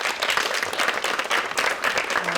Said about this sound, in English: please give a huge round of applause to Maja Ogrizović from Croatia.